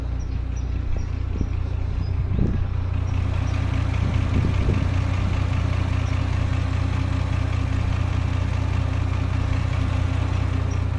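A Porsche Macan S engine with a reported knocking fault runs steadily at idle, a constant deep drone heard up close, with a few faint irregular ticks over the hum and no talk.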